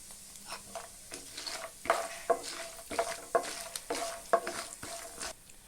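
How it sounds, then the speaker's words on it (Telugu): Chana dal, urad dal, cumin, mustard seeds and peanuts fry in hot oil as a spoon scrapes and stirs the pan in repeated strokes, with a steady crackling sizzle underneath and no voices. "1/2 స్పూన్ వచ్చి జీలకర్ర, కొంచెం ఆవాలు, ఇందులో కొన్ని పల్లీలు కూడా వేసుకొని దోరగా వేయించుకోవాలి"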